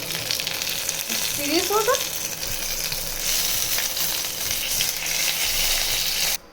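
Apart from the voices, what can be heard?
curry leaves, cumin and dried chilli tempering in hot oil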